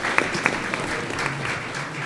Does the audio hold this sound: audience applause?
yes